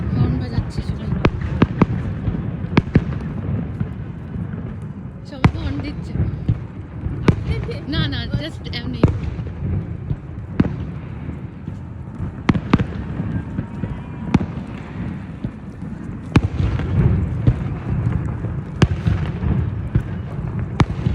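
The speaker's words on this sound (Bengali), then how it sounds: "ফায়ার ওয়ার্কস স্টার্ট হয়ে গেছে" New Year's Eve fireworks in New York pop and bang repeatedly at a distance, with sharp cracks scattered over a constant crowd-like rumble while people talk nearby.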